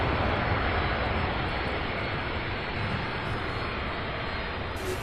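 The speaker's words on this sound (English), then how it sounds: "Another MD-11 here." An MD-11 jet at Louisville International Airport gives off a steady, fairly faint engine rush, a constant hiss-like roar with no breaks.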